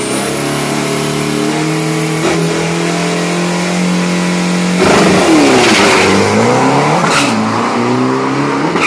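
A car with a 3000 cc engine revs hard at a 402-metre drag strip, then accelerates with a rising engine roar that stays loud and close throughout.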